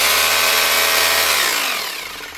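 An SDS hammer drill runs alone, a loud, steady buzzing whir with no voices, then begins winding down toward the end.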